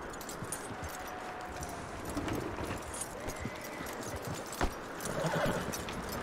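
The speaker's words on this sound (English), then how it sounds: "That looks like a decent horse." Horse in Red Dead Redemption 2 clip-clopping with steady hoofbeats, neighing and whinnying, moderately near, with faint jangling.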